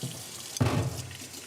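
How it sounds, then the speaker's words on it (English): A sudden gush of running water starts partway through, splashing close by as if rinsing a car under a hose. "We spray a lot of water and we waste it."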